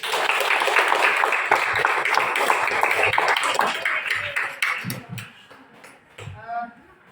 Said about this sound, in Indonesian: Kita boleh beri tepuk tangan yang meriah.